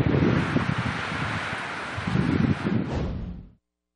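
Strong typhoon wind roars and gusts loudly in Catanduanes, Philippines, with rustling and buffeting surges that swell twice before cutting off abruptly.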